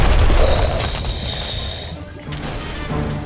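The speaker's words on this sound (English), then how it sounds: "Missile barrage!" Missile barrage explosions from the video game Costume Quest, a dense run of loud booms and crashes over about three seconds with a sustained whistling tone, dipping briefly before rumbling on.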